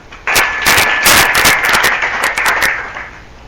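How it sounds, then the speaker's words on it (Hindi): Audience clapping in honour of Devraha Baba at a home satsang, a loud burst of many hands that starts abruptly and keeps a dense, uneven patter for about three seconds before thinning out. "उनके नाम से ताली बजा।"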